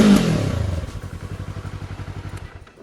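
A 2024 Yamaha R3 twin-cylinder motorcycle engine, heard up close, gives a loud rev at the start that falls back into a steady, evenly pulsing idle thrum before fading slightly at the end.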